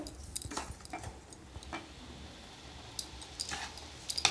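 Sugar is stirred into a banana sandesh mixture in a pan, giving faint, scattered scrapes and small ticks from the utensil, quiet and irregular, ending in a brief cluster of clicks.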